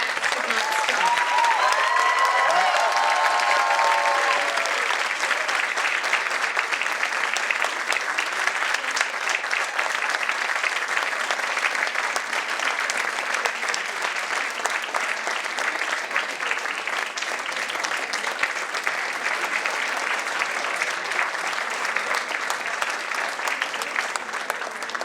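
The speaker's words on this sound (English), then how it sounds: "I think the clap should not stop" Sustained audience clapping at an alumni conference inauguration, loud and dense throughout, a brief voice at the start before steady applause carries on unbroken.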